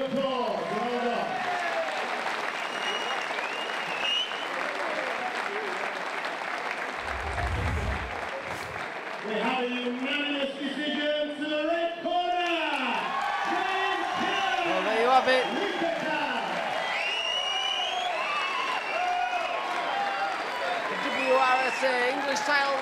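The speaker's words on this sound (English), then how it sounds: "let's give both fighters a big round of applause" Audience applause for two fighters after a bout at a combat sports event, a sustained wash of clapping with cheering from the crowd, while an announcer talks over it throughout.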